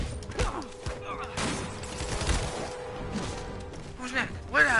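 Sniper gunfire in a Spiderman video game, scattered cracks and thumps running through busy game sounds and clutter, with a voice talking over much of it.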